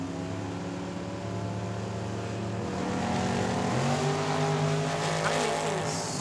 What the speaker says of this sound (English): Leroy creeping in the dragster